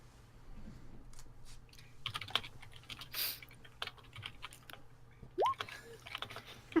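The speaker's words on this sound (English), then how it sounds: "I saw the typing and knew." Brisk clicking from a computer keyboard in a tabletop role-playing session, irregular bursts of keystrokes close to the microphone with small handling noises between them.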